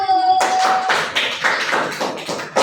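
A classroom group gives a short round of applause for the first group's presentation, with dense overlapping claps at close range lasting a couple of seconds after a brief tone at the start.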